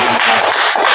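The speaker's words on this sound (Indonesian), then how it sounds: "Tepuk tangan untuk semuanya ya." A classroom of students claps after a group presentation ends, a dense, steady burst of hand claps filling the short moment without pause.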